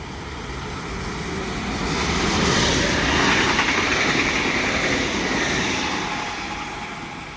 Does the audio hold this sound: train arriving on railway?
yes